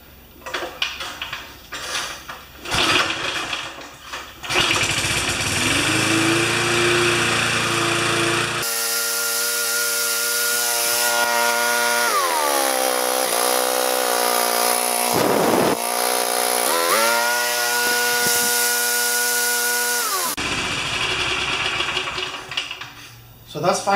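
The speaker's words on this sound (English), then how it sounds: "If it starts, I'm gonna just let it warm up a little bit, drain the fuel, and put the other motor back on this frame." A small gasoline motor fitted to a frame turns over and catches, then runs steadily at close range for several seconds with audible pitch changes as it revs up and settles, after some preliminary clatter.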